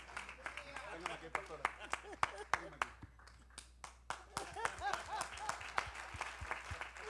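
A church congregation applauds during a sermon, with scattered, moderately quiet claps pattering irregularly while a voice keeps talking over them.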